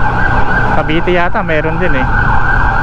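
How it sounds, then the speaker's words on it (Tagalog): Emergency vehicle sirens wail loudly on a Metro Manila road, rising and falling in a sweeping pattern over steady traffic noise, while a person speaks briefly over them. "Ang daming wangwang, may disgrasya ba?"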